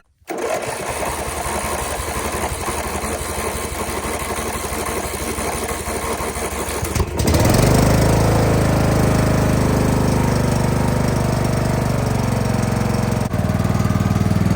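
Small lawnmower engine running steadily on a budget go-kart build, slightly worn and burning a little oil, loud and continuous with a rougher, louder surge partway through.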